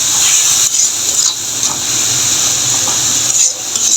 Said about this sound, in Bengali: জিরা গুঁড়ো আর একটু হলে ধনিয়া গুঁড়ো আমি একটু ভেজে নেব